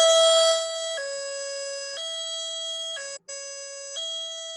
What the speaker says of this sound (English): command vehicles and our engines are outfitted with that same high-low siren